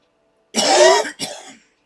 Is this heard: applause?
no